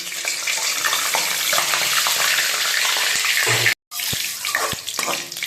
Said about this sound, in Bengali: এবার জিরে, গরম মশলা আর তেজপাতা তেলের মধ্যে দিয়ে দেব।